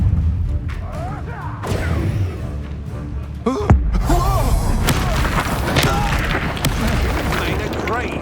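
In Hogwarts Legacy, the Confringo fire-blast spell explodes in a loud boom midway through combat noise, with other thuds and rumbles around it and a voice speaking during the fight.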